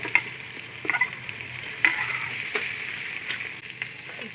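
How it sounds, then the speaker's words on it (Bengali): Garlic paste fries in a pan with a soft steady sizzle, marked by a handful of sharp scraping stirs and clinks of the spatula against the metal. "রসুনটাকে একটু ভালো করে নেড়ে ছেড়ে নেব যাতে কাঁচা গন্ধটা না থাকে"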